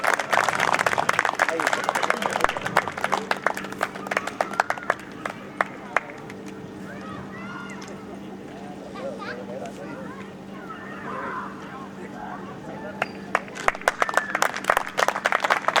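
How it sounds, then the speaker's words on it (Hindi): An audience at a Hindi comedy poetry gathering gives a hearty welcome with loud clapping at the start and again at the end, while a quieter stretch in the middle carries murmuring and voices. "जोरदार तालियों से स्वागत।"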